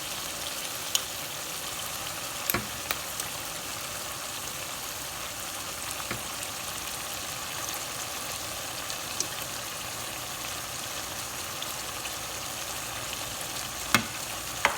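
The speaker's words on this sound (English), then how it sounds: "Okay, so we still have the onions sauteing" Onions sautéing with salt, citric acid and sumac give a steady, quiet sizzle with a few faint clinks and stirring knocks, with no voices.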